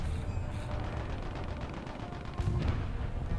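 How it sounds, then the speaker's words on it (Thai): Dense rumbling War Thunder battle noise with low booming cannon fire, a heavier blast near the end, steady and loud throughout. "เสียง ปืนใหญ่"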